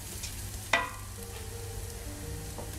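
Rice stirred in a pot on the stove, then water added, giving a quiet steady sizzle with one sharp clatter early on and a low background hum.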